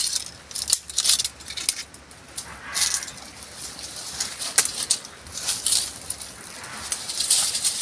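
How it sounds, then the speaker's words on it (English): Dry firewood being cut outdoors in an African village, a series of sharp snaps and chopping cracks scattered through the clip over steady rustling background noise, fairly close and moderately loud. "dry firewood here, so I have to cut it like this."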